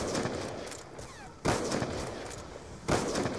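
Gunfire from zombie-shooting gameplay in Black Ops 2 Zombies, a steady rattle of shots under a sharp, louder burst near the middle and another near the end, with no voices over it.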